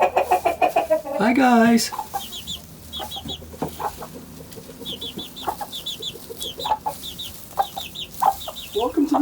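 Chickens cluck and chatter close by inside a custom backyard coop, with repeated short clucks and a rising squawk early on, and a person briefly greets someone over the birds.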